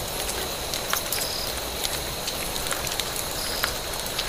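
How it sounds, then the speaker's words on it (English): Rain in the video game Vietcong, a steady hiss of falling drops with scattered brief pattering ticks, continuous and even with no talk. "Now it's raining out here."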